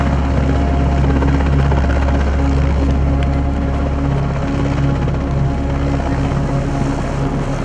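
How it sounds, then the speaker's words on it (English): Helicopters hovering and lifting off from Sinjar mountain, a loud, steady rotor thump and turbine drone filling the whole stretch with no pauses. "hovering helicopters were taking off from Sinjar mountain"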